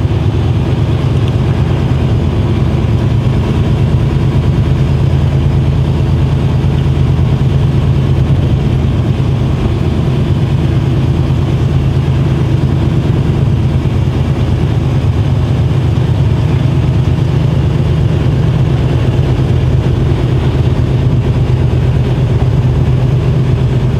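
A truck engine drones at a steady low pitch while driving, a constant loud rumble with road noise and no pauses or changes.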